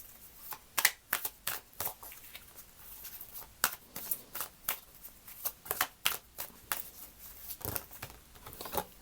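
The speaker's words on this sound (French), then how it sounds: "On va prendre quelques cartes de l'oracle des murmures." Oracle cards are shuffled and drawn by hand, a close run of sharp papery riffles and flicks in quick irregular bursts with short pauses between them, without speech.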